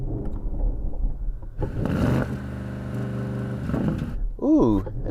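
A Porsche Cayenne Turbo SE engine revs for a few seconds, rising and falling with crackles from the exhaust, and voices talk before and after.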